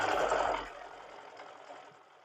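A sewing machine runs long, straight stitches along a quilt border. A short, fairly quiet whir lasts about half a second, then fades into a faint mechanical hum.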